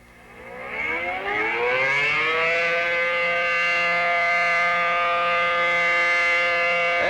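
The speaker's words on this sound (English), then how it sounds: "This community has a good outdoor warning system with sirens covering the entire area." Civil defense outdoor warning siren winds up from a low pitch to a loud, steady wailing tone and then holds it as a sustained alert blast.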